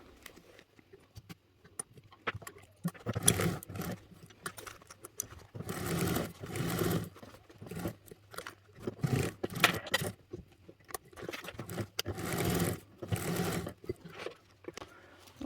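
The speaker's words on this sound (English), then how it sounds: "So we're top stitching these edges and we're basting along the raw edges with a 1/8 seam allowance." A sewing machine top stitching edges and basting raw edges with a 1/8 seam allowance on a zipper gusset for a bag: bursts of rapid stitching start and stop repeatedly, fairly faint and close, with no talk.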